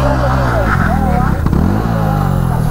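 A KTM Duke motorcycle engine revs hard and loud up close, its pitch rising and falling in bursts, with someone talking over it throughout.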